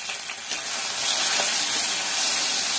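Mustard seeds, fenugreek, dried red chillies and curry leaves sizzle in hot ghee for a sambar tempering, a steady bright crackling hiss that swells slightly after the first half second and holds loud and close with no talking.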